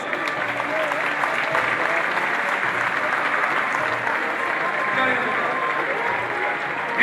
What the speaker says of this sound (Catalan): Un aplaudimiento, por favor.